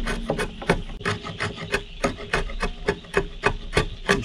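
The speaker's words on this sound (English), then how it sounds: "It's easier for me to work this from the outside because I have more room to work my chisel." Sharp chisel shaving wood while a dovetail joint is cut on a log for a cabin, a quick rhythmic run of about a dozen crisp scraping strokes heard close and alone.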